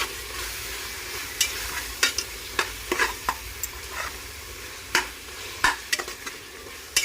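Ginger garlic paste sautéing in a pan for yakhni pulao, a steady low sizzle punctuated by frequent sharp spatula scrapes and taps in an uneven rhythm, close and without speech.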